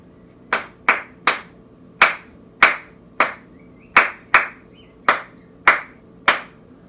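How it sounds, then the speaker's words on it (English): Sharp hand claps beat out the el clave salsa rhythm, eleven crisp claps in repeating groups of three and two, close and loud with nothing else heard. "I'll just quickly demonstrate how the rhythm of el clave goes."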